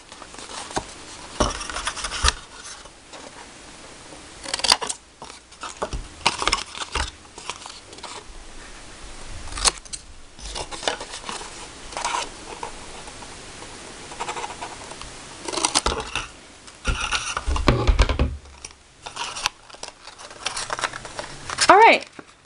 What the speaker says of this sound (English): So I'm just going to go through with my scissors